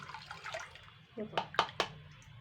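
Water poured from a cup into a cooking pot for sago papad, five cups for half a cup of sabudana, giving a few short splashy bursts near the end under a speaking voice.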